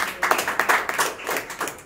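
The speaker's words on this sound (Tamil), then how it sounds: "கைத்தட்டி ஆண்டவர் மகிமைப்படுறார்" A church congregation claps hands in praise during a Tamil sermon, a run of quick, loud, irregular claps heard close and alone.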